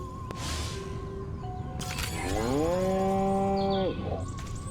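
A scanned cow in the video game Destroy All Humans lets out a single drawn-out moo, loud and close, with clicks and electronic game sounds around it.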